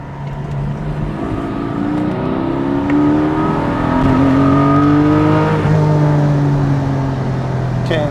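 A Porsche 718 Cayman GT4 engine and exhaust drone loudly and steadily from inside the car, pitch rising and falling as it accelerates and shifts.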